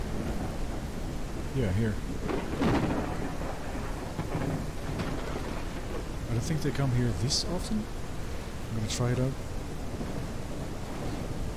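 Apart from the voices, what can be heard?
thunderstorm in the video game The Isle Evrima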